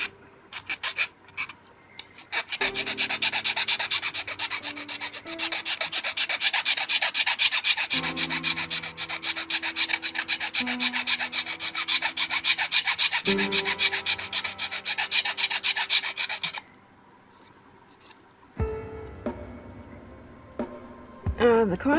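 A file rasps steadily against the sharp jaw edges of new Harbor Freight pliers, with close, continuous rubbing strokes over a hum. A short pause comes near the end before the filing resumes.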